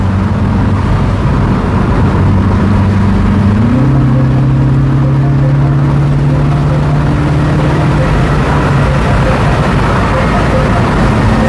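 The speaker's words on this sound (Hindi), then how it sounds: "इसकी जो एस्केलेटर में ज़रा सा प्रेस कर रहा हूँ, गाड़ी उसके बाद गोली की तरह भाग रही है" A Mini Cooper engine rises in pitch as the car accelerates hard, with a clear gear change partway through and a continuous road and engine drone inside the cabin.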